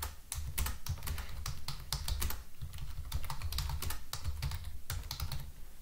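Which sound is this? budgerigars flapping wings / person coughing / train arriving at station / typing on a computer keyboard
typing on a computer keyboard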